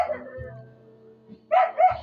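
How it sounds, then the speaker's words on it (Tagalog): A dog barks twice in quick succession near the end. The yips are short and fairly close, after a stretch of low, quiet background. "Ayan, ingay ng aso."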